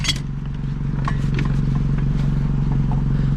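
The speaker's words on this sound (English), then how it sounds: "How are you guys liking the putt-putt of the exhaust?" A rusty old motorcycle idles with a steady low putt-putt exhaust drone. Light mechanical clatter and scraping sit on top of it, close by and continuous throughout.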